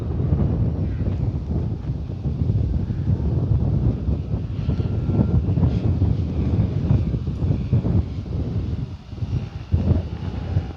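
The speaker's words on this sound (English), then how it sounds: "the wind just pushing her off the side there" Wind buffets an outdoor microphone in a continuous low rumble while an E-flite Sportix 1.1 m RC airplane is flown, with no speech.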